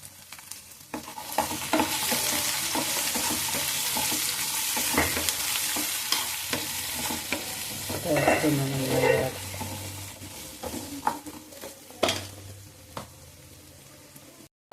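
Carrots being stir-fried in a pan for homemade fried rice, giving a steady close sizzle with scraping stirs and occasional clinks of the utensil against the pan throughout.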